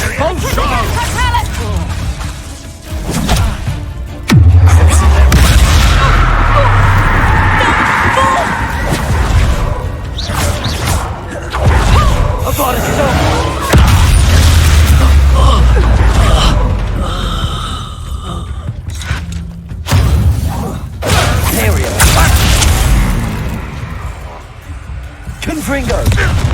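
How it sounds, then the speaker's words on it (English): Spell blasts from an Expulso explosion spell in Hogwarts Legacy, repeated heavy booms and crashing impacts with deep low rumble, recurring across the stretch amid game effects and a player's voice talking over them. "Confringo. Expulso. You miss Expulso. Back for more. I'm not enjoying suffering. Expulso."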